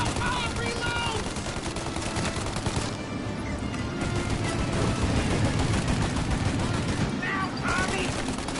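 Sustained rapid gunfire from automatic weapons in the Mafia video game, dense and loud throughout, with voices shouting over the shooting.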